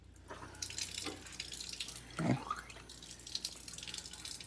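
Tap water running briefly into lab glassware while filling a graduated cylinder for measurement, a close splashing pour that swells midway, with faint drips and room noise around it.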